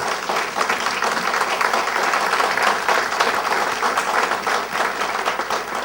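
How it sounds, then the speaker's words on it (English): Guests at a farewell dinner give a sustained round of applause, a dense, even patter of many hands clapping from start to finish without talk. "let us first give them a round of applause"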